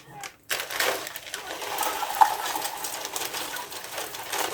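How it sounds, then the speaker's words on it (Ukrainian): Candle wax being poured into a jar during homemade candle making: a continuous granular rustle and patter that starts abruptly and runs for about four seconds at moderate, close volume. "Для початку нам потрібно висипати віск"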